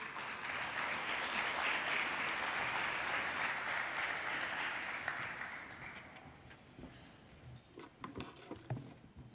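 Audience applause welcoming a guest speaker at a globalization and development event, a full, steady round of clapping that thins out after about six seconds into sparse claps and light rustling.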